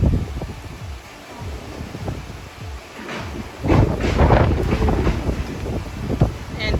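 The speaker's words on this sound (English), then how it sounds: "So windy." Strong typhoon wind buffets the microphone at night during Typhoon Odette in Cebu, a continuous roaring rumble with gusts that swell louder midway and stay intense to the end.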